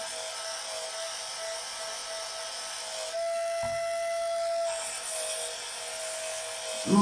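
A small rotary sanding tool pre-sands a cane bowl, whining steadily and close by, its pitch shifting briefly partway through before settling back to a constant high hum.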